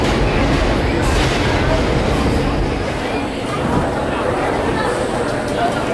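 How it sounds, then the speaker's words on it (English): A 74-year-old R10 subway train rumbles loudly and steadily into a Brooklyn, New York station during a parade of trains event, its low roar and rail noise filling the space with faint chatter in the background. "The subway train that's currently pulling into the station is the 74-year-old R10 train"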